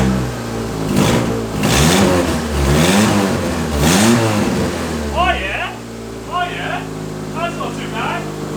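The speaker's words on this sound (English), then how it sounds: "I'll give it a few revs for you guys." A Mitsubishi Lancer's turbocharged 4G15 engine revs hard several times in quick succession through a throaty full custom exhaust, then settles toward idle with a few lighter blips.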